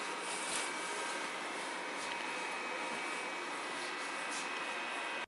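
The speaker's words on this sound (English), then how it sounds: "So this is the sound of the fans right after I played a 4-hour-long movie." Cooling fans of a VIVIBRIGHT F10 portable projector running after hours of use, a steady faint broadband whoosh with a thin constant whine, close and unbroken.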